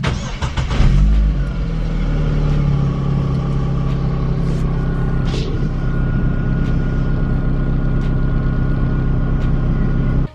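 A 1.8 Corsa engine cranks and fires at about the one-second mark, then settles into a steady, loud idle that holds close to the microphone for the rest of the clip. No voices are heard.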